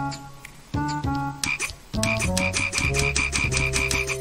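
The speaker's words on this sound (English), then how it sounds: "Frog." Cartoonish frogs croak in the arcade game Fizzball, a run of loud, close, repeated twangy croaks in quick rhythmic succession with layered game chimes behind them, no speech.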